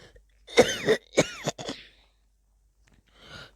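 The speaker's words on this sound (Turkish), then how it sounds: "Ay hasta oldum herhalde öksürüyorum." A person coughs several times in a short, rough burst, then gives one fainter cough after a pause; no other sounds around it.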